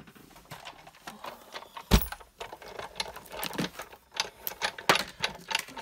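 Stampin' Up Big Shot die-cutting machine being cranked while cutting card, giving a run of ratcheting clicks and mechanical clatter with one sharp clunk near the start, close and moderately loud, with no talking.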